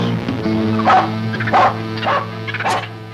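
A cartoon dog barks four times at a steady pace, each bark clear and moderately loud over a constant hum of background music from the animated show.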